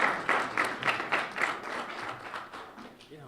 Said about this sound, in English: Let's give a round of applause for Senator Patty Murray.